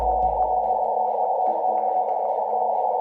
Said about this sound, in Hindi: ये चंद्रमा की आवाज है। ये आवाज भारत के चंद्रयान ने भेजा है।